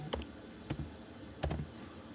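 Three quick, faint bursts of keys clicking on a computer keyboard, spaced about every half-second apart in a quiet room.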